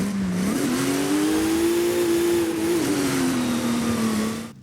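Engine of the 722 car in Forza Horizon 5 revving loudly and steadily, pitch climbing then holding before easing back down, a continuous close drone with no talk.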